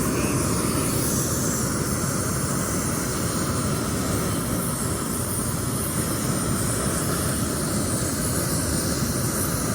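A jet engine like an F-16 fighter's roars overhead above Jocassee Gorge in Gorges State Park, a steady, loud broadband rumble with a high hiss lasting throughout, no talk.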